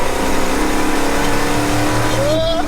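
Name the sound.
50-year-old farm truck accelerating in third gear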